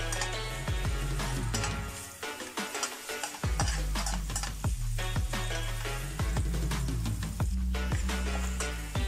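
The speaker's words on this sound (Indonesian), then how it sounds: "Aku tumis sampai harum dulu ya teman-teman." Shallots and garlic stir-fried in oil that was not fully hot, for a sausage, green bean and carrot stir-fry: steady sizzling with repeated scraping stir strokes, close and fairly loud, with no talking.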